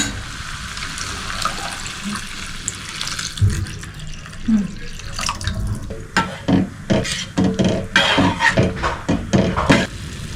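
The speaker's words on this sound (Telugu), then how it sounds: "తరువాత ఇందులోకి ఒక గ్లాస్ వాటర్ అయితే యాడ్ చేసుకోండి" A glass of water is poured into moong dal cooking in a pan over a low flame, giving a steady rushing splash that turns into a run of sharper bursts of liquid sloshing and bubbling.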